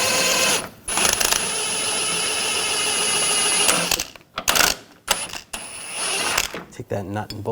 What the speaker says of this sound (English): I'm using a 18mm wrench and a 16mm socket.